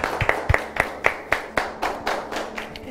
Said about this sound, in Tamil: பெரிய கைதட்டு கொடுக்கலாம்.